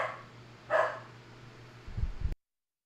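A dog barks indoors, two separate barks a moment apart, the first sharp and the second rougher, over a quiet steady room hum before everything cuts off.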